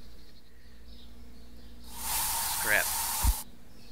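A short hiss of homemade pest spray misted over garden plants, a single burst of about a second and a half, close and fairly loud, followed by a soft thud.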